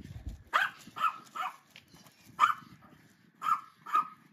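A dog barks in a run of sharp, close barks, about six of them spaced unevenly across a few seconds, with quiet gaps between and no talking over them.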